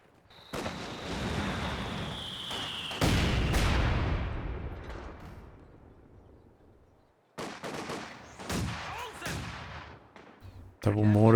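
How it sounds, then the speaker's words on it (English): Double mortars fire in a Company of Heroes 2 two-versus-two match on the CrossFire map, with several sharp booming launches and impacts trailing into rumbling decay, separated by a quieter gap near the middle. "Double mortars making it very dangerous for any unit remaining stationary."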